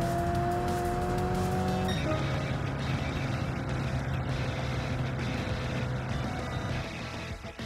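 Race car engines roar steadily in Gran Turismo 7 on the Trial Mountain circuit, a loud, continuous drone with a sustained pitched whine that shifts slightly around two seconds in, with no speech over it.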